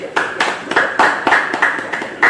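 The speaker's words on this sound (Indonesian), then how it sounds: "Yang percaya beri tepuk tangan buat Tuhan." A church congregation at a Bible study claps hands for God, a run of about ten fairly even, loud, close claps forming a rhythmic beat.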